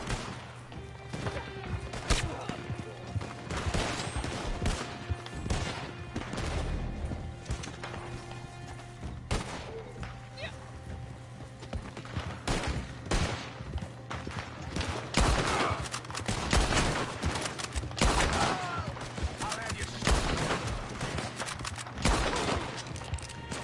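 Gunfire in Red Dead Online, repeated sharp shots scattered across a busy stretch of game sound with horse hooves clip-clopping and crashes, fairly loud and continuous with no talking.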